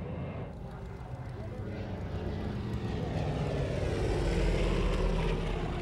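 A Grumman F7F Tigercat's propeller-driven engines roar in a thick, steady drone that swells gradually louder as the aircraft draws nearer.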